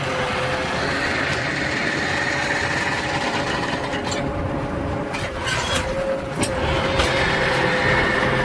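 A 2010 Sunflower 6333-25 field conditioner folds up with its tractor engine running steadily nearby, a constant mechanical drone with faint hydraulic creaks and a couple of brief clunks as the sections move.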